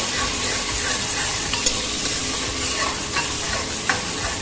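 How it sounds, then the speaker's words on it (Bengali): Onion and garlic fry in oil in a pressure cooker for mutton biryani, giving a steady close sizzle with occasional stirring clicks and scrapes, and no voices. "এখন আমার পেঁয়াজ রসুনটা ভাজা হয়ে গেছে"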